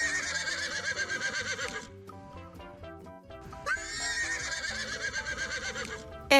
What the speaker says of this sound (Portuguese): É o cavalo!